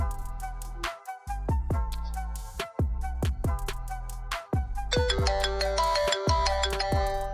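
A custom phone ringtone built from a person's name plays at full volume, a bright synthesized melody with repeating plucked notes over a steady bass pulse, a denser high line joining near the end.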